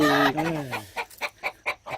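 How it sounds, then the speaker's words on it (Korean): Roosters clucking and squabbling on a rural farm in the mountains, a drawn-out crowing-like call followed by a rapid series of five or six sharp, evenly spaced clucks, close and fairly loud. "장닭들이 싸워야죠 뭐."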